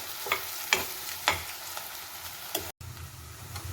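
Onions and curry leaves frying in a pan give a soft, even sizzle, broken by several sharp scraping strokes of a spoon stirring them, then a brief pause before the sizzle resumes.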